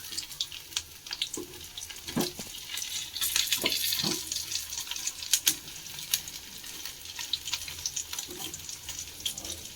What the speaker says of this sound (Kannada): ಈಗ ಸ್ವಲ್ಪ ಫ್ರೈ ಆದರೆ ತೆಗೆಯೋಣ ಫ್ರೆಂಡ್